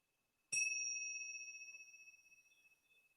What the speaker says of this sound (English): Let the sound of the bells settle into all 70 trillion cells